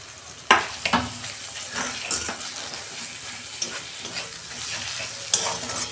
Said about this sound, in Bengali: রসুনটা আমি একটু ভেজে নেব